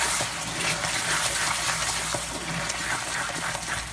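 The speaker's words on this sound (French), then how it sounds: "Ok, on va vider les spaghetti." Water from a pot of cooked spaghetti pours out in a continuous loud gush as the pasta is drained, a steady rushing splash with no speech.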